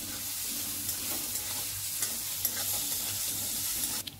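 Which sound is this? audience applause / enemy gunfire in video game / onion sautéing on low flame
onion sautéing on low flame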